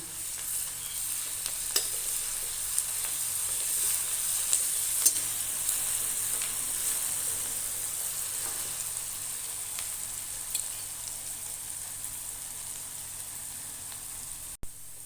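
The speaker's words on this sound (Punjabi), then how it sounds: "ਹੁਣ ਇਸ ਵਿੱਚ ਆਪਾਂ ਹਰੀ ਮਿਰਚ ਅਦਰਕ ਤੇ ਲਸਣ ਦਾ ਕੁੱਟਿਆ ਹੋਇਆ ਪੇਸਟ ਪਾਵਾਂਗੇ ਤੇ ਇਸ ਨੂੰ ਵੀ ਭੁੰਨ ਲਵਾਂਗੇ" Green chilli, ginger and garlic paste sizzles with onions in a pan for a dry potato-brinjal curry, a steady close hiss with a few faint stirring scrapes and no talk.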